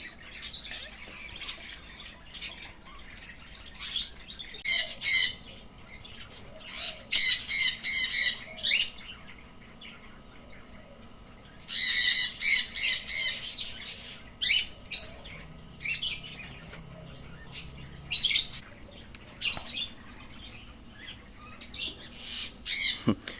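Young eye-ring lovebird chicks out of the nest for the first time give loud, harsh squawks in repeated bursts, with sharp chirps between them and no talking.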